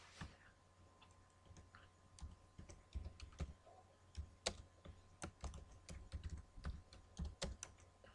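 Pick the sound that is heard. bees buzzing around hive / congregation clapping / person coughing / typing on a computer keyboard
typing on a computer keyboard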